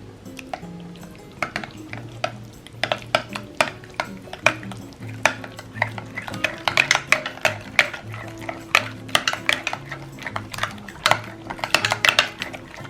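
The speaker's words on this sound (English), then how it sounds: "so now I'm going to mix it well" A whisk or spoon taps and clinks irregularly against a bowl while a dressing of lemon, half and half and heavy cream is mixed, with quick bursts of close clatter and no speech.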